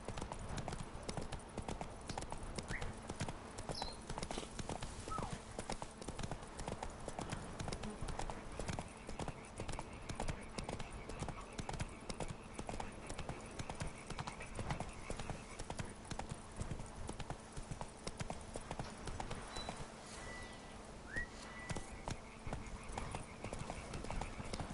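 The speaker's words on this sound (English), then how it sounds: "These horses are stupid." Horse hooves clip-clop in a steady, continuous rhythm throughout, a game horse in The Witcher 3 Blood and Wine trotting on and on, fairly faint under a constant background hum.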